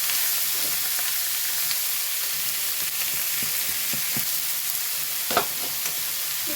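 Chopped banana flower and curry leaves stir-frying in a pan, a dense, steady close sizzle with occasional soft utensil scrapes and one brief sharper clack.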